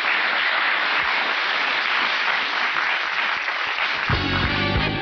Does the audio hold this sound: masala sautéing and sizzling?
no